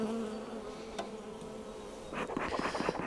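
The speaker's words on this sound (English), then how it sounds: "there's a lot of bees up in here" Honey bees drone in a crowded hive, a close, continuous buzz that swells with extra wingbeat flurries toward the end.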